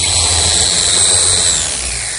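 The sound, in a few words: router with 1/2 inch bit easing the table top edge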